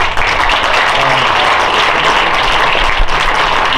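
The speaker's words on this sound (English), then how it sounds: "And big applause to Andy." A crowd at a street ribbon-cutting ceremony applauds loudly and steadily. The dense clapping runs without a break for about four seconds, and there is no talking over it.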